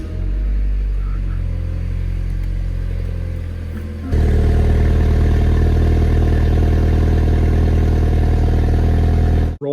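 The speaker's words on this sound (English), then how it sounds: "Time for a cold start with the exhaust fuse valve pulled." BMW G30 530i with B48 engine cold-starting with the exhaust valve fuse pulled: a quiet garage, then a sudden loud engine catch into a steady, heavy idle drone that holds until an abrupt cutoff.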